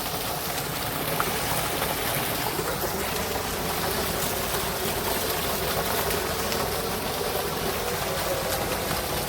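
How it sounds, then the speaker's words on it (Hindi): A tubewell pumps water into a farm field, giving a loud, steady rushing gush with an engine-like drone underneath that runs unbroken throughout, with no talk. "देखो पानी की आवाज़ कितनी ज़्यादा हो रही"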